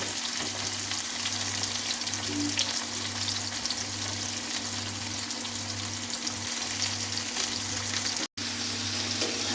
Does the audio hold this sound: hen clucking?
no